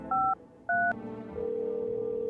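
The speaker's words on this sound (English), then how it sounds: "I know how to dial a phone number." Touch-tone phone keys are dialed in the video game No, I'm not a Human, two clear DTMF beeps followed by a steady dial or ringing tone over a low background hum.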